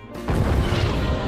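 A sudden loud bomb blast erupts after a brief quiet moment in an anime scene, followed by a sustained rumbling, crackling roar that stays heavy and dense to the end.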